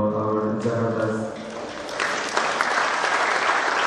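An audience in a Jakarta official meeting hall claps after a transportation presentation, a dense steady burst of applause that swells and holds throughout, with a faint voice early on.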